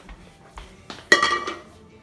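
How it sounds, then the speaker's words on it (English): A cooking pot set back down on a kitchen stove after draining spaghetti, giving a short metallic clunk and clatter with a brief ring, preceded by a few faint knocks and handling noises. "put your pot back on the stove."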